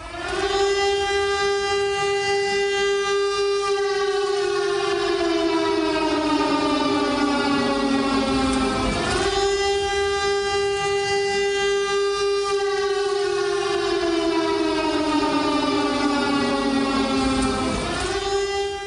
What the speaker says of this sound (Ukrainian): Громадяни, повітряна тривога.